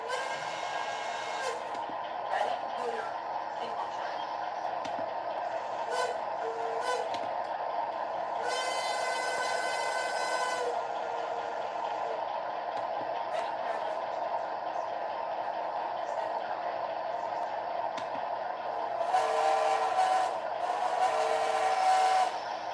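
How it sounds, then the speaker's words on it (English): A model train's Reading Hooter whistle sounds in bright, sustained blasts over a steady running hum, with a longer toot partway through and another near the end. "Damn, that's a Reading Hooter."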